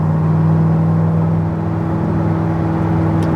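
The factory exhaust of a 2009 Corvette ZR1 with over 750 wheel horsepower rumbles in a steady, loud drone close up, holding an even pitch with no clear rise in revs.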